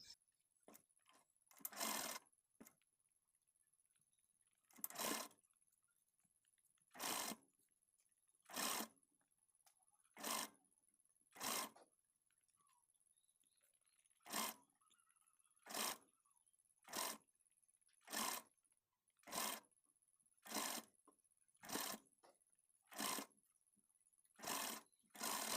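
A sewing machine stitches down folded pleats on a Gopi-style sleeve, running in about fifteen short, evenly spaced bursts with quiet pauses between them, faint and alone.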